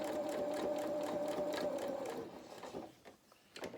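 A sewing machine stitching fabric body pieces for a toy cat runs in a steady rapid whir of close, loud stitches for about two seconds, then stops briefly and restarts with a few short bursts.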